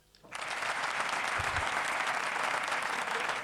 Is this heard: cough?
no